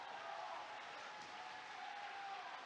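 Crowd at the EVO 2022 Multiversus grand finals applauding the first-place champions, a steady wash of clapping heard faintly and at a distance, without speech.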